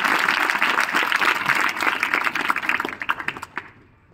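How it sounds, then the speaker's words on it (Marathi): A school audience at a lecture event applauds loudly, a dense crowd clapping that thins into scattered individual claps and fades out over about four seconds. "तुम्हाला, मला सर्वांना एकदा जोरदार टाळ्यांचा कडकडाट त्यांच्यासाठी करावा लागणार आहे"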